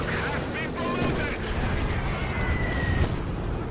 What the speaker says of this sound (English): he drops a dive bomb